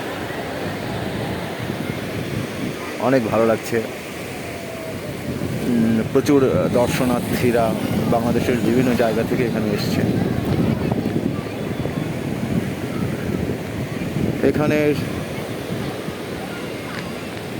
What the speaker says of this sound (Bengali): সমুদ্রের ঢেউ